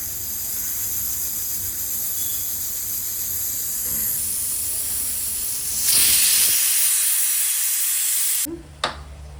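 Steam hisses loudly and steadily from a pressure cooker cooking millet rice, swelling into a harsher rush near the end before cutting off abruptly, followed by a faint knock.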